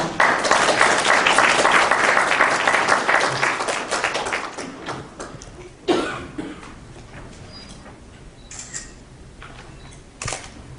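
Audience applause at a Busan lecture event welcoming a Samjin Eomuk executive to the stage, with dense clapping for about four seconds that fades into scattered claps, a few coughs and room noise.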